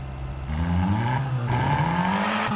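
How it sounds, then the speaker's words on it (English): Car engines in the racing video game Racing Kingdom on a desert map, a continuous droning whine that rises in pitch as the cars accelerate, loud and steady with a brief dip midway. "do you like the sound of these cars?"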